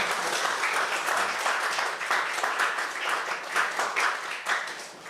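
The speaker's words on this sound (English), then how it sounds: "I heard you give her a round of applause." An audience at a political youth workshop claps in a dense, sustained round of applause that swells and fades slightly over several seconds, with no talking.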